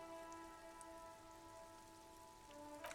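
Steady rain ambience from the video game Disco Elysium, a soft, even patter of falling rain laid over a faint sustained hum, with no voices.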